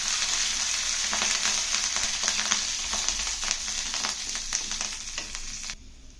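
Tender curry leaves crackle and sizzle in hot oil for green chilli chutney, a steady close frying hiss with scattered pops and stirring, fading out abruptly near the end.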